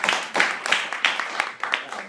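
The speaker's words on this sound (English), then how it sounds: "If we could give him a little round of applause." A small audience at a live dialogue event gives a short round of applause, sparse uneven claps close by with a few louder hits, lasting about two seconds.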